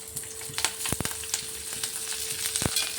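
Red chillies sizzle and crackle in hot oil in a pan for coconut chutney, with sharp spattering pops and the scrape of stirring, close and fairly loud, no voices.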